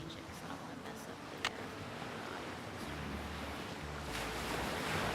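Ocean waves from the Nancy Drew game Creature of Kapu Cave give a continuous, broad wash of surf with gusty wind-like noise, swelling slightly louder toward the end.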